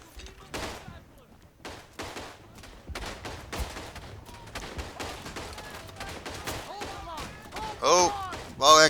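Gunfire in the World War I shooter Verdun: scattered single shots and short bursts crackle throughout, mostly moderate in loudness and set against the sound of battle, with louder shots near the end and a voice speaking over them.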